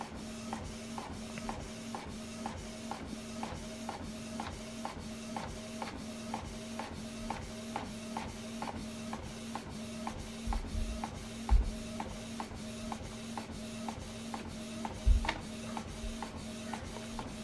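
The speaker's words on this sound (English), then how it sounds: "You can see the document is printing out." A Canon printer prints a document sent from an iPad, giving a steady mechanical hum with regular rhythmic ticking from the print head, plus a couple of soft low thumps partway through, close by and without speech.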